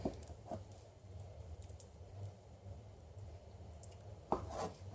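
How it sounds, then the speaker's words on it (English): Olives being sliced for an Italian pasta salad: a few faint, sharp knife taps on a cutting board, spaced apart, over a low kitchen hum. "Put those olives in there. And then I can go to work slicing."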